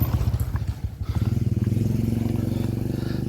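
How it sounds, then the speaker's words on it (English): A motorcycle engine approaches and chugs steadily nearby with a rough, pulsing low rumble that grows louder and holds through the end, with a faint clatter early on. "Monk on a motorcycle"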